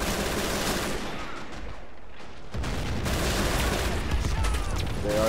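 MG42 machine-gun fire in Men of War: Assault Squad 2 rattles as a dense, continuous stream of rapid shots mixed with battlefield gunfire, briefly thinning before resuming.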